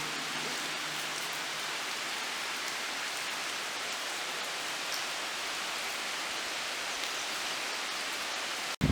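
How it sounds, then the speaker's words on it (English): Heavy rain pours down steadily in a dense, hissing downpour that continues without a break. "I hear another downpour"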